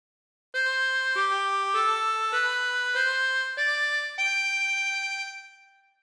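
Harmonica playing a phrase of God Defend New Zealand, six sustained reedy notes in a steady stepwise sequence, close and clear, the last note fading out alone.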